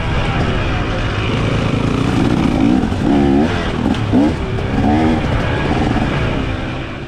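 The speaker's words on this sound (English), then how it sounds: "That said, I do want by, and I'm giving Corey a couple rev bombs." A dirt bike in a hare scramble race blasts through several sharp rev bursts, the engine pitch rising and falling over a loud, continuous roar of nearby motorcycles.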